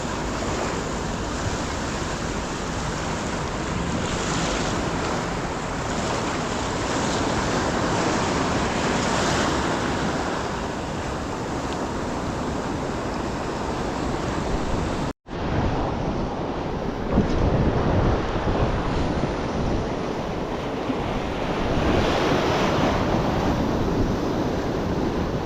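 Ocean surf rolls in along a beach at Pennington and Umkomaas on the KZN coast of South Africa, a loud continuous roar of breaking waves buffeted by wind noise on the microphone, with a brief cut midway.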